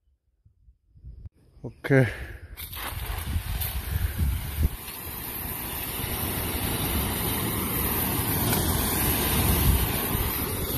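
A motorized pesticide sprayer engine used in farm work in Taiwan coughs and catches after a few quiet seconds and a brief short word, then settles into a steady droning run that continues to the end.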